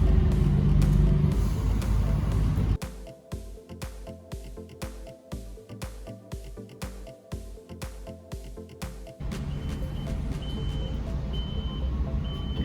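A car reverses into a blind alleyway: a close, steady engine rumble, broken in the middle by a run of regular pulsing beeps before the rumble swells again.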